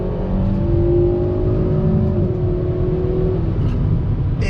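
A 2020 Kia Forte GT with a 1.6-liter turbocharged engine and a piggyback tune pulls hard from inside the cabin, a steady loud drone with a rising engine tone that eases off near the end.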